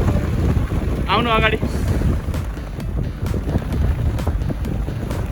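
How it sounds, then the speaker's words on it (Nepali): Strong wind on a high ridge near Lo Manthang in Upper Mustang, roaring and buffeting the microphone continuously and loudly, with a brief spoken voice early on. "हावा बेजोड चल्दैछ यहाँ, मान्छे नै उड्ने गरी, अघि बढ्नै दिँदैन हावाले।"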